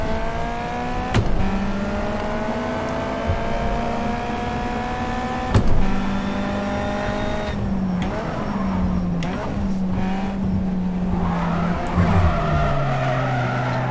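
A race car in a racing video game skids and squeals its tires while the engine drones and revs in sliding pitch sweeps, loud and continuous, with a couple of sharp bumps.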